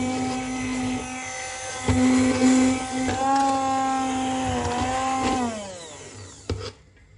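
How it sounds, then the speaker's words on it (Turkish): A blender purees softened cherries, whirring steadily, its motor pitch rising and falling as the fruit breaks down, then winding down at the end. "Pürüzsüz hale gelene kadar blenderda inceltiyoruz."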